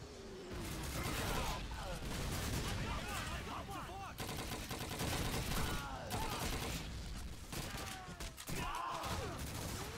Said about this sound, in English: Can you stop shooting?